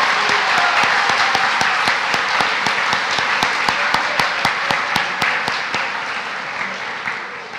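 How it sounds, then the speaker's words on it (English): A large audience at a school opening ceremony applauds and cheers for middle schoolers, steady dense clapping throughout with a few sharp louder claps standing out, gradually easing toward the end. "So everyone else can cheer the middle schoolers over."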